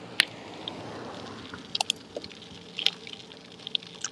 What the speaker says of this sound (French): Il commence à pleuvoir.